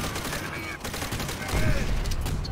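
A Thompson submachine gun fires in Call of Duty: World at War, rapid automatic bursts with a heavier, denser volley in the second half, mixed with battlefield noise.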